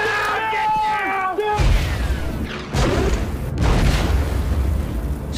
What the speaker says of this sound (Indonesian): Saat Kappa dan Robert pergi meninggalkan Rudy, serangan mortir Jerman datang.